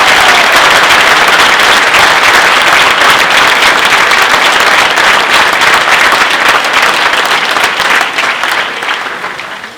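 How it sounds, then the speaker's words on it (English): An audience at a university event welcoming the chancellor breaks into loud, sustained applause, dense clapping from a large crowd that holds steady and then tapers off near the end. "Please give a round of applause for our chancellor"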